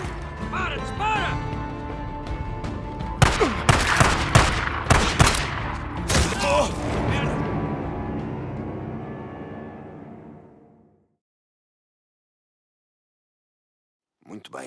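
Gunfire in the game Days Gone, bursts of shots cracking loudly in a dense fusillade over mechanical clatter and game noise, peaking mid-clip before cutting to silence near the end.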